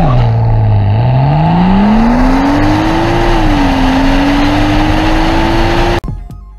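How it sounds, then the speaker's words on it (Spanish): A car engine runs steadily and loudly up close, its pitch slowly rising then settling as the revs climb, before cutting off abruptly near the end. "Ahorita le van a sentir el motor al carro"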